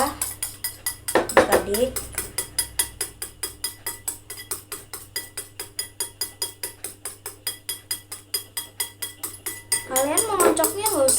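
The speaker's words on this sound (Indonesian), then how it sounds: "ini kita terus mengocok ya" Oil being whisked in a glass measuring cup makes a steady, fast clinking rhythm of utensil against glass, close and fairly loud, with a child-directed voice speaking briefly near the start and again at the end.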